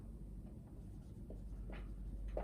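Prime numbers are written on a board with short scratchy strokes and taps. The sound is soft and fairly close over a low background hum, with a few distinct marks toward the end.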